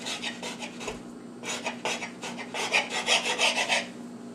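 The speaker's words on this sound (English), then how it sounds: "Then you take your knife again, and then you just cut it diagonal again." A knife saws in short rasping strokes through a peanut butter and jelly sandwich on a plate, close and quiet, with bursts of scraping and a brief pause between cuts.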